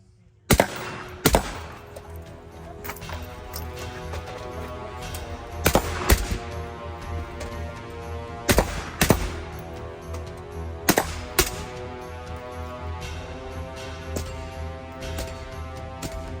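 Shots from a PWS MK111 rifle crack out one at a time at irregular intervals, sharp and loud against the range, with about eight distinct reports across the stretch.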